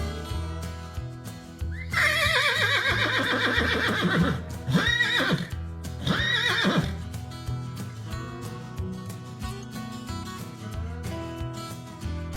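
Horses on a farm neighing, with a loud, long whinny followed by two shorter whinnies in quick succession, close and clear over a quiet background.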